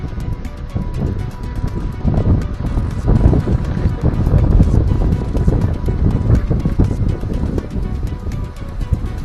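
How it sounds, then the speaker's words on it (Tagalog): Steady, heavy wind roars and buffets the microphone throughout, with a rushing, watery background like open sea. "Kahit malakas ang hangin."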